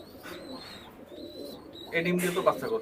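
Pigeons coo softly in the background, with a louder stretch of cooing and rustling near the end as people talk nearby.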